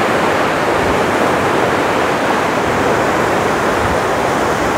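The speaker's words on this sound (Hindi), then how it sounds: "पानी का बहाव ना बहुत ही तेज है।" Loud, steady rush of fast-moving water in the Indira Gandhi Canal, a dense continuous roar with no pauses, close by and unbroken throughout.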